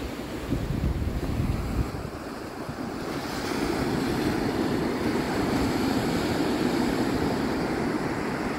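Ocean waves and surf rolling onto a St Augustine beach at high tide around sunrise, a continuous broad wash of breaking water that swells louder partway through, with wind buffeting the microphone.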